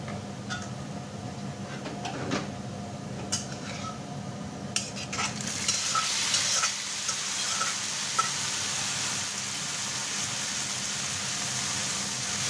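Greens being stir-fried in a frying pan, a steady broadband sizzle that swells in the middle, with occasional sharp clinks and scrapes of a spatula against the pan, no talk.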